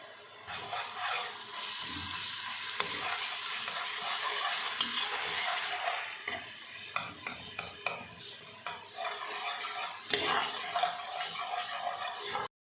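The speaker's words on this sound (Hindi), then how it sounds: "इसमें अब मैंने लहसुन भूनना है 1 टेबल स्पून" A tablespoon of garlic sizzles in hot oil with a constant crackling hiss, while a utensil scrapes and clinks against the pan now and then.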